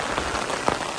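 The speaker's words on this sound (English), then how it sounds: "I'm glad we started hiking when the rain wasn't very strong. Now it is" Heavy rain pours down on a hiking trail in Cinque Terre, a dense, steady hiss of drops striking surfaces close by, with no talk.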